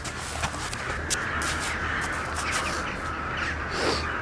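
Crows caw repeatedly outdoors in Ramadi, a few harsh calls cutting through a steady wash of background noise at moderate distance.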